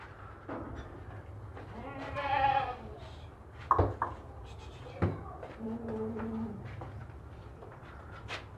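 A healthy male goat offered at a livestock market bleats a few times, nearby and moderately loud, with faint background noise and no clear talking.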